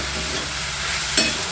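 Dates and tomatoes for a Bengali-style chutney are cooked in a pan, a steady close sizzle broken by one quick scraping stir near the end, with no talk.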